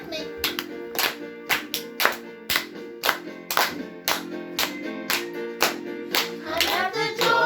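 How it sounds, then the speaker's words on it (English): Hands clap in a steady rhythm along to a children's church song, about two claps a second, loud and close over sung music. "Clap with me."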